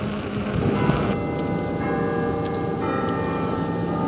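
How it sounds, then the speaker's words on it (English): Campanile bells ringing in overlapping tones, steady and moderately loud, with a broad wash of background noise and no voices. "They got bells."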